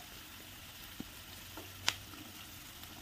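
Onions and thick-cut green chillies frying in a pan on a home stove for a leftover-roti breakfast give a faint, steady sizzle, broken by a few light clicks and one sharp utensil tap against the pan.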